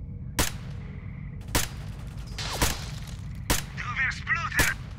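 In the STALKER Call of Pripyat video game, five sharp gunshots ring out at irregular intervals over low ambient noise. Brief chirping effects sound near the end.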